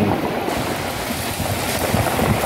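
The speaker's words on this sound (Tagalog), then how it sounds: "tubig dagat at naririnig po yung gulungan ng mga bato" Sea waves surging over rolling beach stones at Barangay Dakil, Mauban, Quezon, a steady close rush of water and gravel wash filling the whole stretch with continuous broadband noise.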